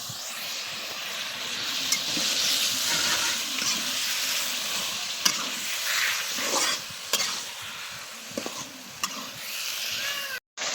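A large tomato being sautéed and stirred into a drumstick (sajna) curry, with steady close sizzling and frying hiss and repeated scraping stir strokes throughout, no talk.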